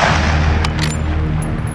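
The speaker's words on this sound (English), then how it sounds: "one of the 300 Winchester Magnums is fired, there's no questioning what just went off next to it." A .300 Winchester Magnum rifle on a shooting range gives a loud, booming report with a heavy, rolling tail that fills the short moment, with no speech.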